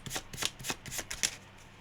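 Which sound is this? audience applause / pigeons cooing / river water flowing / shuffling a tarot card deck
shuffling a tarot card deck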